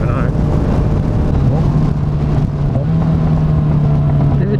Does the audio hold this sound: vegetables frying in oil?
no